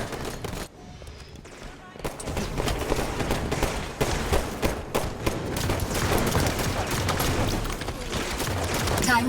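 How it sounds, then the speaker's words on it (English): Heavy gunfire erupts in a video game battle, dense overlapping shots and automatic bursts hammering away almost continuously for several seconds, loud and close. "Under heavy fire."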